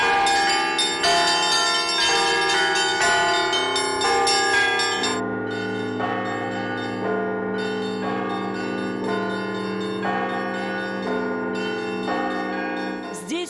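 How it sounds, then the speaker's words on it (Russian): Monastery church bells ring during a service in a dense, loud peal, with many overlapping bells struck in quick succession and long resonant tones that hang and blend, the clanging continuing without pause. "Колокольный звон во время службы разносится на километры вокруг."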